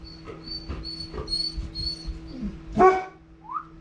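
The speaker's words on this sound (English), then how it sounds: "Now you hear a dog." A dog barks several times in short, uneven bursts, with a sharp yelp and a whimper, fairly close against a faint electrical hum.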